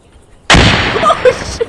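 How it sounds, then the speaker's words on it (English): A sudden loud explosion in Battlefield 4 bursts after a short quiet moment, then rumbles and crackles with debris for about a second, close and alone without talk. "Yeah, try to explode it."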